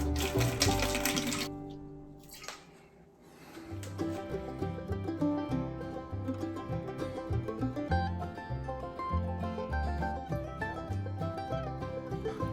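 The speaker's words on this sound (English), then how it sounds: "To create the patina, I'm going to soak the blade in apple cider vinegar." Apple cider vinegar being poured into a container to soak a rusted knife blade, a close, steady trickling and splashing of liquid that begins strongly, dips briefly, then bubbles and gurgles on.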